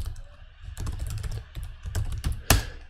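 Rapid typing on a computer keyboard while entering a search query, a brisk irregular run of close key clicks ending in a sharper, louder keystroke, with no talk over it.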